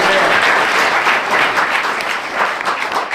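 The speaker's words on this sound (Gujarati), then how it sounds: "નીલકંઠ ભગતને તાળી પાડો" Applause from a large audience at a big religious festival gathering at Vadtal, dense and sustained clapping filling the whole moment without any talking.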